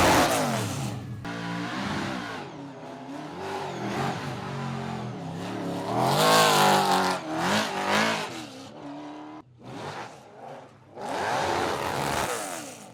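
A paddle-shift race car revs hard as it takes off, the engine note rising and falling through several shifts, loud and close with brief gaps.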